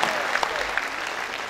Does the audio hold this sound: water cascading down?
no